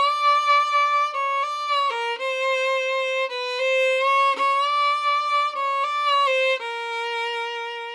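Solo fiddle plays the opening phrase of the Missouri Waltz, clear bowed notes moving in a slow three-beat waltz rhythm, close and alone with no talking.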